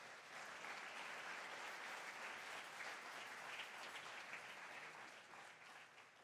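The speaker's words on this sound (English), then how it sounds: "Let's give them a round of applause." Audience applause at a college valediction ceremony at Trident College Solwezi, a steady, dense wash of many hands clapping that holds evenly throughout and fades slightly at the end, with no talking over it.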